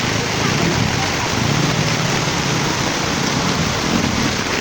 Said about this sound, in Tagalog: alas 30 minutes na yung malakas na ulan